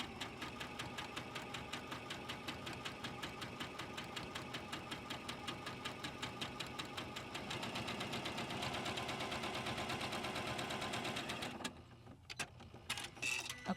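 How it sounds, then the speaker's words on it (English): A sewing machine stitches steadily through quilt fabric along a marked line at a 1.8 stitch length, its fast rhythmic needle thumping close and continuous for about eleven seconds before stopping, with no talking. "I'm just going to sew directly on the line with all those raw edges together"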